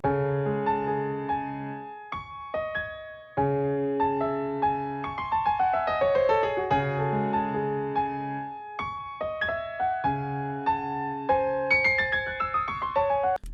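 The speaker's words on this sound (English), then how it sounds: "So next up, I added this piano from Contact. It's the Golden Age Grand Piano" A sampled Golden Age Grand Piano from Kontakt plays a MIDI melodic line with chords and runs, notes ringing and decaying, with short pauses between phrases; clear and close.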